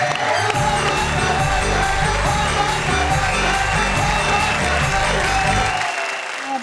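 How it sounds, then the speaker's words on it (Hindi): Applause from the crowd at a poetry recital fills the space with sustained, loud clapping and some cheering, ending abruptly near the close. "तालियां"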